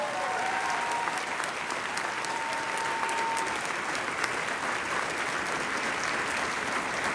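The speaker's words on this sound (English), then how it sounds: "Somebody better clap for that." Dinner guests at the HRC Chicago 2024 gala applaud during the organization president's speech: a dense, loud, sustained roar of clapping from a large room, steady throughout with a few faint cheers mixed in.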